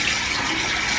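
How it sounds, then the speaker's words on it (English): Cold tap water running and splashing as someone rinses their face at a bathroom sink, a steady close hiss of flowing water with no talking. "In the morning, I actually just rinse my face with cold water."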